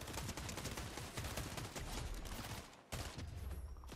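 Dense, rapid video-game gunfire in Fortnite, a continuous crackling burst of shots that cuts out briefly near the end and then resumes, fairly quiet and with no talking.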